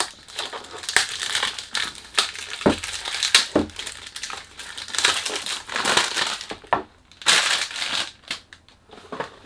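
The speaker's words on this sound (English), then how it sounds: "Sorry about the noise. When you do unboxing, you can't do anything about it." Cardboard packaging for a perfume is handled during unboxing, giving loud, close crinkling and crushing noises in irregular bursts with brief pauses; no talking.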